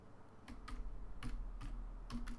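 Computer keyboard typing while code is entered in Android Studio, a few quick clustered keystrokes at a steady pace, close and fairly quiet against a low background hum.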